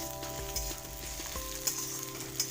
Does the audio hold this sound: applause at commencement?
no